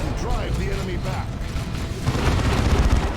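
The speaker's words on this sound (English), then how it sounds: "high explosive rockets are firing upon the Dreadnought" Explosions and high-explosive rocket fire hitting a Dreadnought in the strategy game Dawn of War 2, with booming impacts and whooshing launches mixed with game effects. A narrator speaks over the continuous battle noise.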